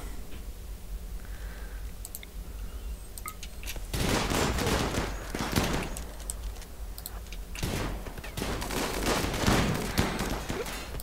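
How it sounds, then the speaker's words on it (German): Gunfire from people shooting in a game, loud rapid bursts of automatic shots starting after a quieter stretch, repeated volleys with short pauses, close and dominant with no voices. "Gott sei Dank schießen die nicht besonders gut"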